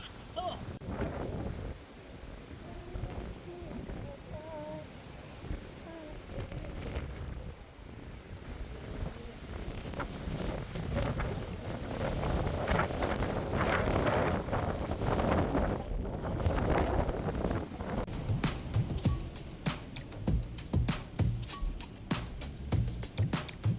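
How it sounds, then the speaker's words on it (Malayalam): Steady wind gusts buffet the microphone outdoors at a century-old heritage bungalow in Munnar, a continuous broadband rush that swells louder midway, with faint voices briefly underneath. "ഇവിടുത്തെ കാറ്റാണ് കാറ്റ്."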